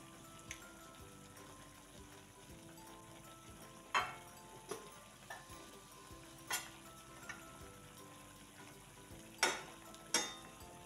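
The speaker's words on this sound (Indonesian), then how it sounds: "lalu aduk-aduk sampai tercampur rata" Oseng tempe with onions stirred in a frying pan, a soft sizzle under occasional sharp scrapes and clicks of a spatula against the pan, quiet and close.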